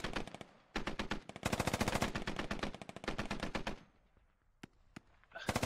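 Rapid automatic gunfire in the Squad military video game, long sustained bursts of evenly spaced shots, loud and close, then a pause and a few single shots before firing resumes.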